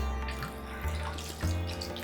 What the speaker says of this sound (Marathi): थोडंसं शिजायपुरतं पाणी घालायचं